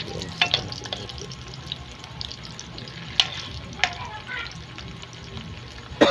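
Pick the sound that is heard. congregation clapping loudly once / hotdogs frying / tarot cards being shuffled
hotdogs frying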